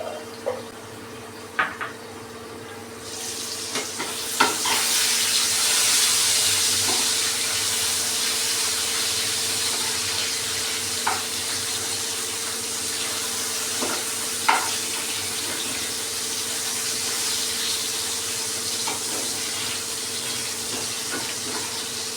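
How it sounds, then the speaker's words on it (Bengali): Potatoes frying with cumin powder and turmeric in a pan, a steady close sizzle that swells after a few seconds and holds, with occasional clicks and stirring taps over a faint low hum. "আলুটা কিন্তু সুন্দরভাবে ভাজা হয়ে গেছে।"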